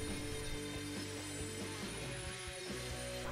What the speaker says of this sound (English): I had to go in there with a carbide burr to smooth everything out